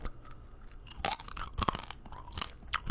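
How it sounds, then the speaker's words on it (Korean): Nacho chips from a convenience store taco salad crunching in the mouth, close-up bites and chewing in short crisp bursts with quiet pauses between. "이 바삭한 나초칩도 왜 들어있나 했는데, 솔직히 지금 좀 눅눅하거든요?"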